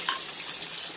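Dried red chillies with mustard seeds crackling in hot oil, a brief soft hiss of frying, close and fairly faint.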